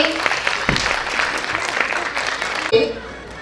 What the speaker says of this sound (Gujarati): થોડી જો તાળીઓ પાડવા બાળકો માટે